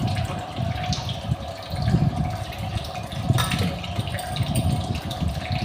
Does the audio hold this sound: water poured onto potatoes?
yes